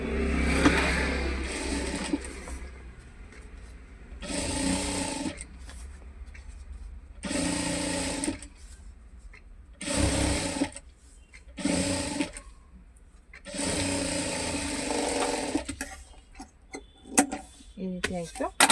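A sewing machine stitches a four-cut handbag in a home tailoring setup, running in several separate bursts of steady whirring, each a second or two long, with short pauses between runs and fairly close to the listener.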